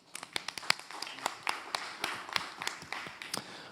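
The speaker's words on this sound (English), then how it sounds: "Round of applause" An audience at a Lord Mayor's business debate claps: scattered, distinct hand claps from a modest crowd, irregular and moderately quiet, tapering into a loose patter.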